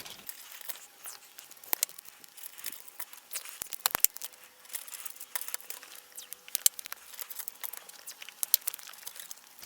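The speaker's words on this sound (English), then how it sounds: "electrical tape over the top so that they stay in place." Electrical tape being torn and pressed down over electronic parts, quiet crinkling and sharp brief tearing snaps scattered irregularly, close up and with no talk.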